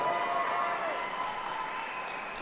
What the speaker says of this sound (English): a massive round of applause for this man